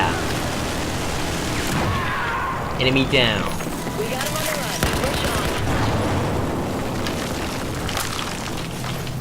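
Grenade blasts in the Battlefield 4 video game, with booming explosions and bursts of gunfire through a noisy battle mix while someone talks over the action.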